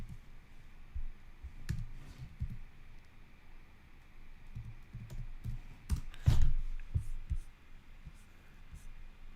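Quick bursts of computer keyboard typing, sparse clicks and a louder flurry partway through, close but faint over a quiet room background.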